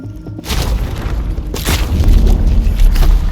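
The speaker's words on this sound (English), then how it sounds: "And then came the next explosion" A deep, rumbling boom from an explosion in the video game Death Stranding erupts and swells into a sustained roar of low crackling and thunder, loud and close, with no talking.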